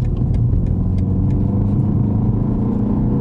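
BMW X2 M Performance engine heard from inside while driving, a steady loud low rumble that holds throughout with no voices.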